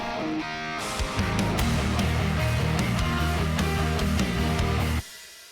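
A dense electronic song arrangement plays loudly with a rhythmic beat and layered synths, carrying a filtered whoosh and a heavy impact before cutting off sharply near the end.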